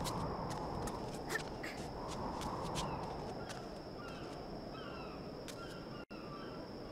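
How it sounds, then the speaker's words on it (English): Birds take off in the video game Submerged, with a string of squawking, cawing calls and flapping over a steady wash of water and wind ambience. "More birds fly away."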